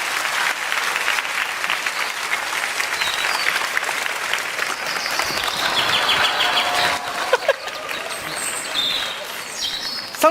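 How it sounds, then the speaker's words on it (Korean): A church congregation at an autumn dawn revival service claps warmly to welcome two pastors to the front, continuous applause filling the room, with a few brighter tones and clatters appearing toward the end. "두 분 목사님 나올 때 뜨거운 박수로 맞이해 주시면 감사하겠습니다."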